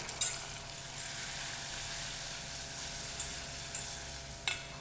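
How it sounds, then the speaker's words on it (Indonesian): Caramel sauce being stirred in a pan, a steady bright sizzle and hiss punctuated by a few sharp utensil taps against the pan, close and fairly loud. "Kita aduk."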